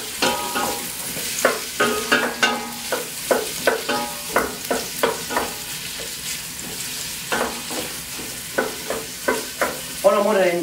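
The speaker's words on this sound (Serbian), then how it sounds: "To moramo malo pržiti, jer luk brzo zagara." Onions fry in oil in a pan for goulash, a soft sizzle under repeated sharp scraping strokes of a spoon stirring, close and rhythmic.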